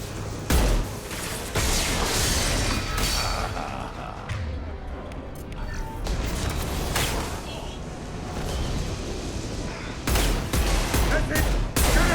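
Sustained gunfire in Mass Effect 2, with bursts of rapid shots, heavy booming impacts and chaotic combat noise running steadily throughout, while voices speak under the din.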